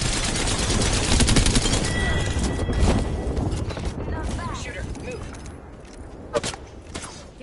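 Gunfire fills an Apex Legends match, with dense bursts of automatic shots rattling loudly at first, then thinning into scattered shots and mechanical clatter.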